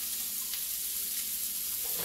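Zucchini, carrot and other vegetables stir-frying in a hot oiled pan, a steady close sizzle with faint stirring clicks throughout, no voices.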